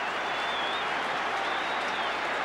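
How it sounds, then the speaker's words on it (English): Melbourne supporters in a large football crowd at Waverley Park applaud during a 1988 elimination final against West Coast, a dense, steady roar of clapping heard at a distance. "the Demon supporters are happy, but don't clap too soon"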